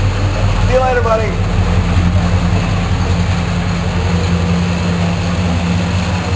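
SS396 Chevelle, black on black, with its big V8 rumbling steadily at idle, a deep continuous low drone close by, and a brief voice at the start.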